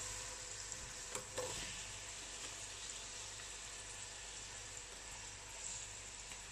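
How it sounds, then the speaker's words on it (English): A pan sizzles faintly and steadily in a home kitchen while a spoon stirs through it, with a few soft scraping touches over the continuous frying hiss. "And give it another good stir."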